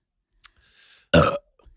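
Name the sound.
burp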